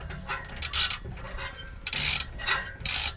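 A wrench tightens exhaust bolts, ratchety clicking and rasping in several short bursts between quieter scraping, close and fairly loud, no talk.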